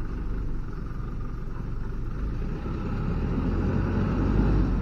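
An old vehicle's engine labouring uphill, a steady loud low rumble and drone that builds slightly toward the end, with no voices over it.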